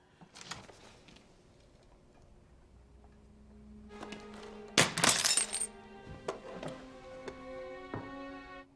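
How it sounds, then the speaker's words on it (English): In a Band of Brothers film scene, glass breaks as a man throws small framed pictures around a house: scattered clinks and taps, then a loud burst of shattering with ringing glassy shards that trail off, no talking. "he in there just throwing her little pictures and stuff around, breaking glass"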